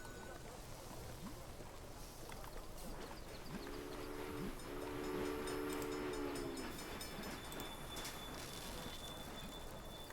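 A train in the Railway Empire video game sounds two steady horn blasts, one right after the other, over a constant rolling rail rumble; a voice talks lightly in the background.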